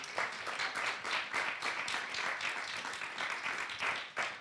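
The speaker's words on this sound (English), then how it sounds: "can we just give Joel a round of applause?" A book-launch audience gives a sustained round of applause, dense clapping filling the room at a steady level from start to finish with no voices.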